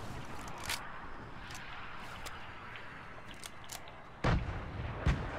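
Distant gunfire from players shooting across a hill in Fortnite, scattered faint cracks with two louder, nearer shots near the end.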